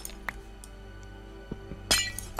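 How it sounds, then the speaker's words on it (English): Glass shattering in Minecraft, a bright crash of breaking panes near the end over a low ambient game drone, with a few faint clinks earlier. "Let's make a giant hole and crashing glass sounds."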